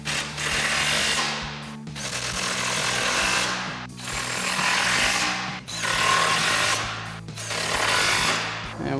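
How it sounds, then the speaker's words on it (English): A power tool tightens fog light bolts on a 2019-2024 RAM 2500 pickup, running in several long loud rattling bursts separated by short pauses. "we'll come back and tighten down all these bolts"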